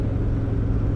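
A Harley-Davidson Road Glide Limited motorcycle engine gives a brief, loud, steady low rumble close by, without any change in pitch.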